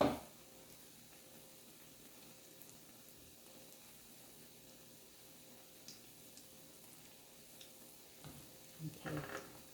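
A Thai bittermelon omelette sizzles in a pan, a quiet, steady crackling frying hiss throughout, with a few faint clinks and a brief murmur near the end.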